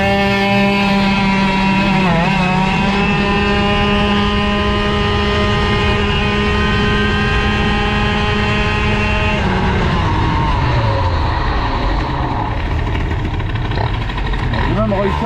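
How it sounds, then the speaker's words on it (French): A Bidalot RF 50 WR motorcycle engine idles steadily and loudly close by, holding a constant buzzing tone before shifting near the end as if pulling away. "J'en ai marre de tenir le ralenti."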